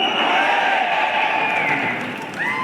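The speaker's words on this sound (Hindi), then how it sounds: "एक बार जोरदार ताली का बजाएं एवरीवन" Audience applause and cheering fill a hall at a Vestige network-marketing success event, a loud, steady crowd roar for nearly three seconds that eases slightly before rising again.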